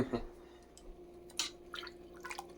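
Water measured out in a cup and poured into a pot of homemade lentil chili: faint, brief splashes and drips over a steady low hum, quiet throughout.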